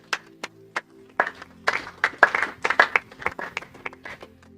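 Congregation in a church service clapping, starting with a few scattered claps and building into a lively burst of applause from many hands before thinning out.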